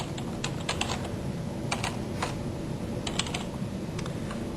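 Quiet, quick keystrokes on a computer keyboard in short irregular bursts as an email address is entered, close and clicky over faint room hum.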